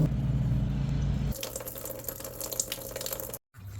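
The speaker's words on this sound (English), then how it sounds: "Alright, while that's draining, we're going to get this hose up here loose." Coolant drains from a 2005 RAM 1500 4x4 with the 5.7-litre HEMI engine during an engine replacement, a steady pouring trickle close up that shifts tone partway through and cuts out briefly near the end.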